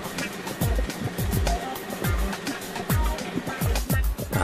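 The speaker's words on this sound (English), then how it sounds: "The next machine shakes it up and then pours it across smaller magnets." Tyre recycling machine shaking shredded rubber and pouring it across small magnets, giving a loud, continuous rattling clatter with repeated low thumps.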